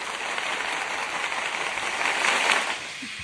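Dense, steady applause from a live audience welcoming a guest onto a stage, sustained and fairly loud for a few seconds, swelling slightly near the end before easing, with no talking over it.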